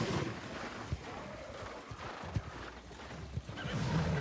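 In the video game New World, a horse mount trots with a soft clip-clop of hooves over steady wind noise, a faint whinny rising near the end.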